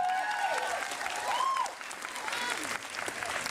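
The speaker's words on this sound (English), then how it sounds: "Give them a round of applause" Dense crowd applause for a group of singing tenors, continuous and fairly loud throughout, with voices calling and whooping over the clapping.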